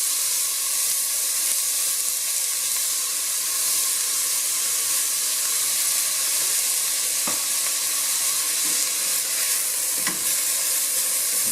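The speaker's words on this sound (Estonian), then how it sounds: "nüüd ma panen hakkliha, kuumutan natukene hakkliha" Minced meat fries in oil in a pan, giving a steady close hiss and sizzle that runs the whole time, with a few faint clicks of stirring.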